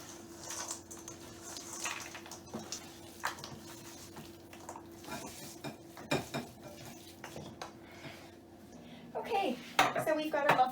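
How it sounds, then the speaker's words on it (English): A spoon scrapes and clinks in a bowl while blueberries are folded into muffin batter, steady close stirring with scattered knocks and a louder clatter of utensils toward the end, no talking. "We're just going to combine those berries into this nice muffin batter."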